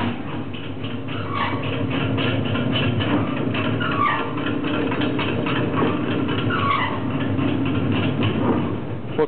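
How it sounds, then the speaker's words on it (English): A Hobart MG2032 butcher meat mixer grinder runs in mix grind mode, with its top arm and auger turning through the cylinder together. It makes a steady mechanical drone and churning rumble, close and continuous and without pause. "Mix grind is both the top arm and this whole auger assembly that goes through the cylinder."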